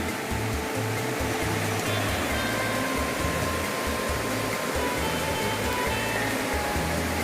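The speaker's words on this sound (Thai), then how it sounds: "น้ำลำธารไหล ตลอดทั้งคืน" A stream flows steadily beside a camper-van campsite in Nakhon Nayok, Thailand, giving a continuous, even rush of water with a low rumbling undertone and no talk.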